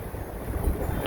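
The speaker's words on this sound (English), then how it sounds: "There's some wind." Strong wind in a Las Vegas windstorm roars and buffets the microphone in a brief, close, rumbling gust.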